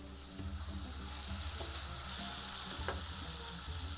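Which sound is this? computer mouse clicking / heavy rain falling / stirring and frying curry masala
stirring and frying curry masala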